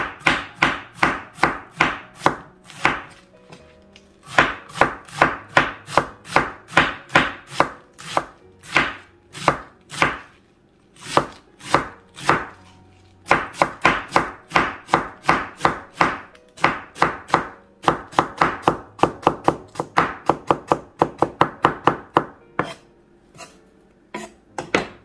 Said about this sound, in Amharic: በጣም በስሱ ነው መክተፍ ያለበት።